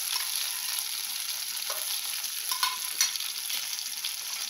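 Crushed green chillies and ginger being stirred and lightly fried in a pan, giving a steady soft sizzle with a few faint scraping stir strokes, close and fairly quiet with no talk.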